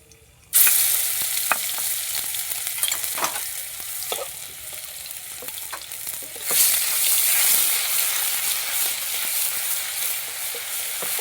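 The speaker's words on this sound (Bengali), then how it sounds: "একটু রসুনটা একটু ভাজা ভাজা করে নেব" Spoonful of garlic paste dropped into hot oil in a wok, already seasoned with dried red chili and five-spice seeds, bursting into a loud steady sizzle with scattered stirring scrapes and crackles, no voices.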